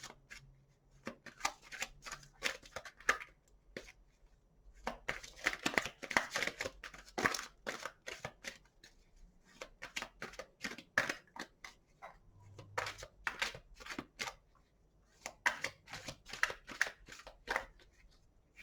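Tarot cards are shuffled by hand in repeated bursts of crisp riffling and flicking, close and fairly quiet, with short pauses between rounds.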